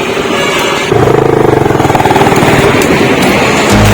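Benelli Imperiale 400 motorcycle running close by, a loud steady idle that shifts into a rapid pulsing single-cylinder thump and then a slight rev near the end.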